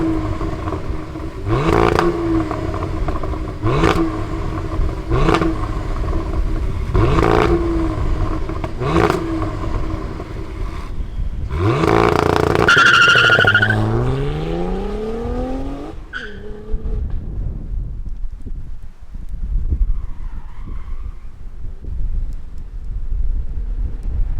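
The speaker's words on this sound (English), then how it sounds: "let's fire up our CT4-V Blackwing and hear what it sounds like" A 2022 Cadillac CT4-V Blackwing with a 6-speed manual revs in a steady series of sharp, rising bursts, then a louder swell with tire squeal and a falling engine note before fading to quieter rumble.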